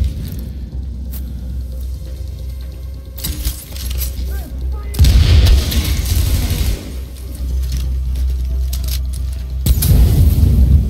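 Grenade explosions in the video game The Division: a rumbling, noisy mix of game sounds broken by loud booming bursts with crackling debris, and a voice talking faintly underneath.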